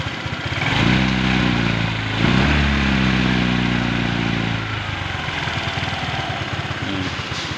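A motorcycle engine runs steadily after its fuel pump has been repaired, a close, loud idle with a couple of revs that rise and settle before it holds a rough, even chug.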